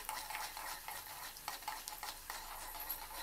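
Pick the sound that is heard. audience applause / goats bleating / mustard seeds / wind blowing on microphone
mustard seeds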